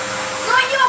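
Household vacuum cleaner running indoors, a steady whining motor hum with airflow hiss, fairly close and continuous, with a voice briefly audible over it.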